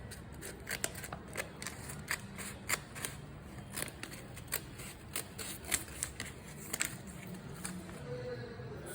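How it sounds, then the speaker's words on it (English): Scissors snip through two stacked sheets of paper at once, trimming away leftover rectangle pieces in a craft; a steady run of crisp, close, irregular cuts over a faint rustling background. "And cut the remaining rectangle pieces that are left here. You can cut these two papers at a time."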